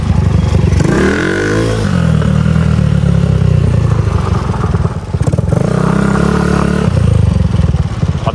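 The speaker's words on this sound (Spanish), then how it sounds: "pillen como patina esa pirueta" Motorcycle with worn, slick tyres revving and skidding through a stunt spin, engine whine rising and falling with scraping tyre noise, loud and close.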